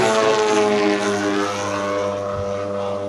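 Extreme Flight 40% Slick 580 freestyle RC model aircraft flies past with a loud, buzzing propeller and engine note that slides gradually downward in pitch as it recedes.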